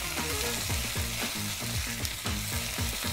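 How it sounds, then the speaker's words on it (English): Mushrooms sautéing in a pot for a spicy vegetarian rundown, giving a steady close sizzle and crackle with a few soft stirring scrapes, no voices. "Just gonna saute that in as well."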